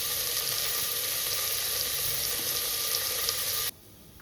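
Cumin, shahi jeera and chili sizzle steadily in hot oil with a bright, even crackle that stops abruptly near the end.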